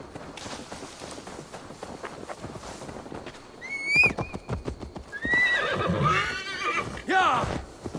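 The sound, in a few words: horse neighing and hooves clopping, from Assassin's Creed Valhalla video game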